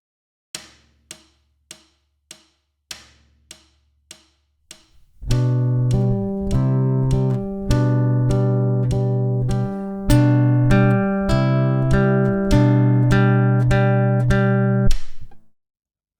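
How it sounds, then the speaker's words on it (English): Fingerstyle guitar plays Fernando Sor's Andante (Op. 35 No. 1) at 100 bpm, opening with two bars of sharp metronome-like clicks, then plucked chords and melody that alternate between quiet and loud passages, clear and close. "Here's the third line again with the quiet and loud at 100 beats per minute with a 2-bar introduction."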